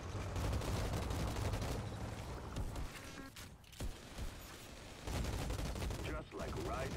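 Gunfire in the shooter video game Outriders, a dense, sustained burst of rapid shots that briefly drops out twice before resuming, with talking underneath.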